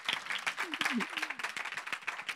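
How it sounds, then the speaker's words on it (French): Audience at a startup talk applauds, scattered distinct hand claps forming a moderately dense patter, with voices talking over them. "merci de les applaudir déjà pour commencer"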